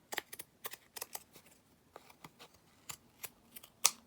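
Scissors trim the overhanging edge of a fabric tag in a quick series of about a dozen crisp, close snips at an uneven pace, some in pairs, with no talking.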